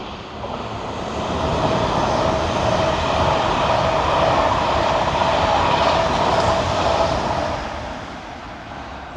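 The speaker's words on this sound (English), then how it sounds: "seeing a modern train like that just whiz by" A modern train rushes past nearby on Beattock Bank in Scotland, a steady roar that swells, holds for several seconds, then fades away.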